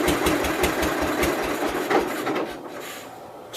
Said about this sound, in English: This tractor never did like to idle.